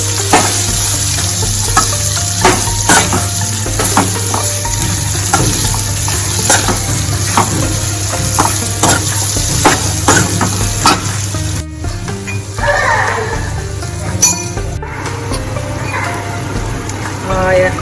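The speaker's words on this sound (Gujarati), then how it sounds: "ભીંડા લીધેલા છે તે એડ કરીશું. મિક્સ કરી લઈશું." Okra stirred in a hot pan with asafoetida, sizzling and frying loudly and continuously at close range with spoon scraping and stirring clatter, a low steady hum beneath.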